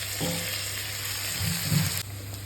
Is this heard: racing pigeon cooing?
no